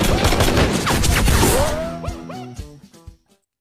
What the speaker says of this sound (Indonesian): dia pun diajarkan untuk menembak targetnya dengan tepat dan akurat